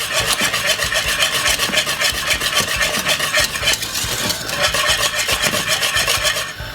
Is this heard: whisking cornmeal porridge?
yes